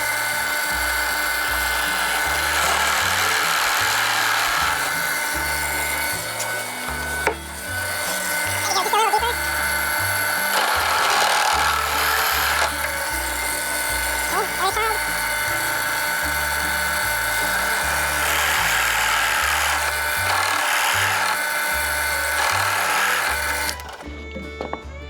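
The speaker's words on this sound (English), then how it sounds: "I'll use this 3/4 inch drill bit to make countersink holes for the nuts" A 3/4 inch drill bit bores countersink holes into wood in long, loud whining bursts close by, pausing briefly between passes.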